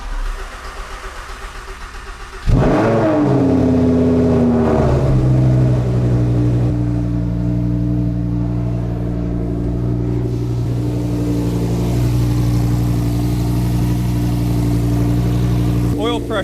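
A Suzuki DL800 DCT motorcycle engine cranks and catches about two seconds in, revs briefly, then settles into a steady, loud idle close by.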